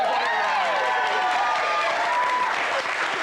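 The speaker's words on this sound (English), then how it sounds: "Even the boys are clapping." Dense studio audience applause on a quiz show, a continuous roar of clapping with some cheering and voices mixed in, steady for the whole few seconds.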